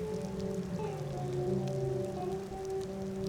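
Rain falling steadily on a surface near a roadside, a dense even patter of drops that holds at one level throughout with no voices.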